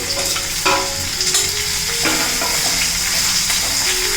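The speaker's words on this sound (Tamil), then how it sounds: "இது எல்லாத்தையுமே நம்ம ரொம்ப வறுக்க தேவையில்லை." Chopped onion frying in a pan for a banana-flower stir-fry, a steady loud sizzle and crackle throughout with occasional stirring scrapes, close and continuous without speech.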